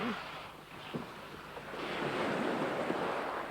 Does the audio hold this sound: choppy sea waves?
yes